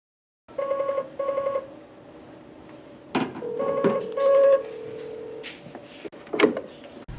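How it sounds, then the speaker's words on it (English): Telephone keypad tones dialing out on a phone tied to a command center base station, several short paired beeps and a longer tone, with clicks and handling clunks between them, close and clear. "Either place a call from a phone to the base station and answer at the base station."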